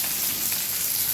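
Bitter gourd (karela) frying in a pan gives a steady, close, dense sizzle with a soft crackle throughout, and no voices.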